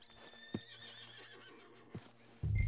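A horse in the Red Dead Redemption II video game whinnies with a long, wavering neigh, joined by a second short call and soft hoof clops, with a loud thump at the end and no talk.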